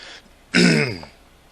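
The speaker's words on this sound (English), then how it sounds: "Excuse me for clearing my throat." One short, rough throat clearing, close and fairly quiet, with a brief faint noise just before it.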